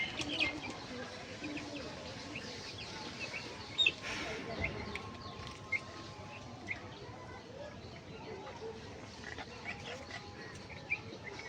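Black pigeons coo softly at a distance amid outdoor ambience, with faint chirps and a few brief knocks scattered through a long, quiet stretch.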